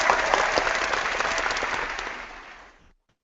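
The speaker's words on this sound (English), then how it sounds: "let's give a round of applause to Jennifer Ford Berry" A round of applause from an audience at an online organizing summit, a full, even burst of clapping that fades out and stops near the end.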